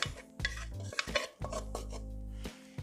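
A spoon stirs a Samoan coconut pumpkin dessert mixture in a pot, making close, clattering scrapes and knocks against the metal in irregular bursts, with no talking.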